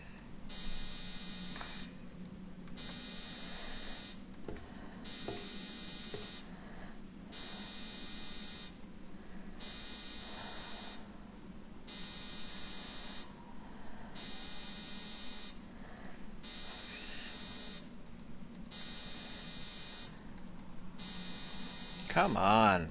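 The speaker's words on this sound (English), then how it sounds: "I'd like to really shut off that buzzer." Loud, steady electronic buzzer in the puzzle video game Phobos 1953, sounding in regular pulses of about a second on and a second off over a low hum, continuing throughout with faint game noises.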